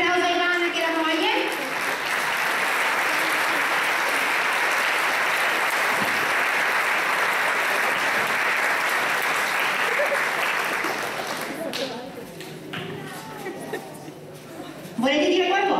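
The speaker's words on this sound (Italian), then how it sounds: "Un applauso a Ivana" Audience applause for Ivana at a local festival's second edition swells into a dense, steady ovation lasting about eleven seconds, then thins out as voices emerge and a brief burst of clapping returns at the end.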